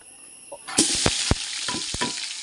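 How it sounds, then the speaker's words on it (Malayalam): Sliced onions sauté for beef masala in an old copper pot over a wood fire, giving a steady sizzle broken by several sharp scraping and stirring knocks. "ഉള്ളി വാട്ടട്ടോ ബീഫിന് മസാലക്കുള്ള ഉള്ളിയാണ് കേട്ടോ വാട്ടാൻ വെച്ചിട്ടുണ്ട്"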